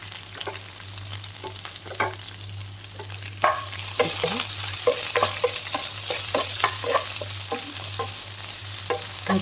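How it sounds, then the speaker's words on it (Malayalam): Chopped onion, curry leaves and green chilli sauté in a pan with a steady sizzle, while a utensil scrapes and stirs in repeated close, clear strokes and no one speaks. "പിന്നെ പച്ചമുളക്, ഒരു ചെറിയ സവോള അരിഞ്ഞതും ഇട്ട് പാകത്തിന് ഉപ്പിട്ട് വഴറ്റാം"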